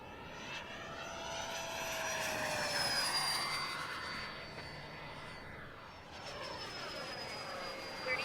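An RC F4D Skyray model jet runs at full throttle with a continuous, fairly loud turbine whine. Its high tones slide slowly downward as it passes, heard alone without voices.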